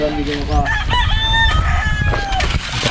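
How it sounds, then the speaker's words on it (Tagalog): A rooster crows loudly nearby while several chickens cluck around it in a busy, noisy coop. "daming mga manok dyan"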